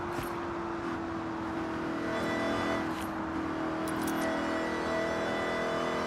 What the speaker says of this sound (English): This car is quite fast for a stock car. It's a Ford GT, but like still.